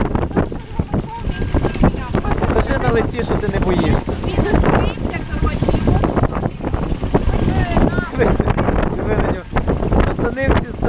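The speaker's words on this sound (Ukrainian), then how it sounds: "Дощ підсилюється, вітер підсилюється." Heavy wind buffets the microphone in strong gusts with a rushing storm roar and rain on Koh Kyiv island, Cambodia, while a person speaks over the noise.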